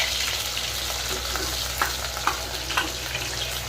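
Chopped onions fry in hot mustard oil, a steady broadband sizzle with a few sharp spatters and pops, fairly close and alone with no voices.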